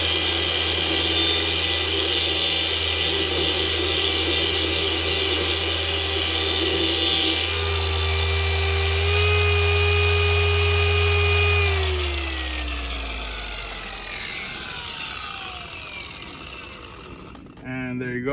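A polishing pad cleaned with a pad cleaner while detailing a car for a ceramic coating, a loud steady whine of a spinning machine that winds down gradually and stops near the end.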